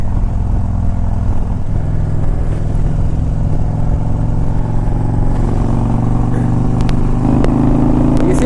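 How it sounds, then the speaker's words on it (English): A 2001 Harley Davidson Ultra Classic motorcycle engine pulls hard under acceleration, a loud, steady, close-up low rumble with rising pitch, mixed with wind and road noise and a few faint clicks. "It revs nice and quick."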